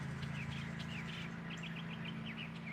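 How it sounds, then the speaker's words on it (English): Birds chirp and tweet in quick, scattered calls outdoors at a roadside honey stand, somewhat distant, over a steady low hum. "Oh, just listen to the birds, guys."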